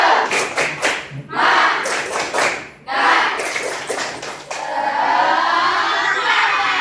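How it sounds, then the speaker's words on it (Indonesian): A classroom of students bursts into a rhythmic spirit clap, several quick bursts of sharp unison claps with pauses between them, followed by scattered voices and room noise. "Tepuk semangat!"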